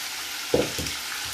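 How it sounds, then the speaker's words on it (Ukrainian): Zucchini and boiled pasta simmer together in a pan over low heat, giving a soft, steady sizzle with a brief clatter of stirring midway. "Нехай вони ще на невеличкому вогні трішки протушуються разом."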